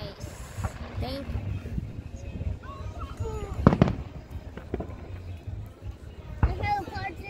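Fourth of July fireworks display heard outdoors, with sharp bangs standing out around the middle and near the end over a constant background rumble. People talk throughout.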